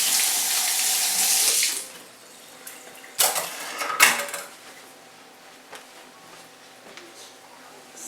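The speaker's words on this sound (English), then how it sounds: "I'm going to grab the sink." Water from a kitchen tap runs loudly into the sink for under two seconds and then stops, followed by quiet room tone with a few clinks and clatters of dishes nearby.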